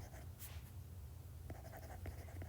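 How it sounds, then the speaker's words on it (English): A pen or marker scratches out notes, faint soft strokes with a few short distinct scribbles near the end over a low steady hum. "So let me write that down for you"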